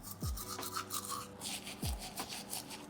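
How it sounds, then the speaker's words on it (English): Teeth brushed with a wetted toothbrush and mint toothpaste, giving close, steady bristle scrubbing and rubbing strokes over about three seconds, with no talking. "Toothbrush ASMR."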